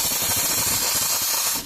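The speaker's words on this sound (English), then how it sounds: "So usually always have to purge a steam wand." A coffee machine's steam wand being purged, a loud, continuous hiss and sputter of steam and water blasting out close by, cutting off abruptly at the end.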